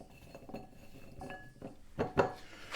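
McCain Smoky BBQ fries are tossed with seasoning in a bowl, giving quiet scraping and clinking with a few louder knocks near the end, close and faint, with no talk.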